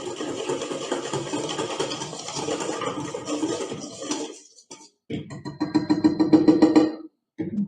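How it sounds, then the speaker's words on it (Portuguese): A stand mixer whirs in a home kitchen while half a batch of cake batter is mixed, with a steady motor drone that briefly stops and then resumes with scraping and clatter. "eu vou levar lá pra batedeira de novo"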